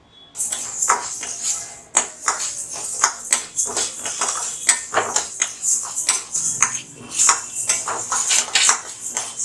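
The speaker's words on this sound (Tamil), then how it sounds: "அடுத்தது பாசிப்பருப்பு வறுத்துக்கலாம்." Split moong dal dry-roasted in a pan for murukku and thenkuzhal, giving a close, bright rattle of dry lentils and rapid metallic scrapes and taps as they are stirred continuously.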